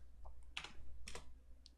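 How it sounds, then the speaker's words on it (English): Keys clatter on a computer keyboard during SketchUp modelling: a few quick, separate keystroke clusters, close and fairly quiet, with no talking. "You can do that by typing the height and then pressing enter."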